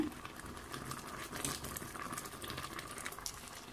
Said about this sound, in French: Je vais maintenant rajouter le gombo et diminuer le feu.